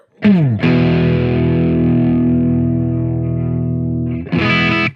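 Squier Affinity Strat electric guitar played through a small amp: a slide into one sustained distorted chord ringing loud for several seconds, then a short restruck chord at the end.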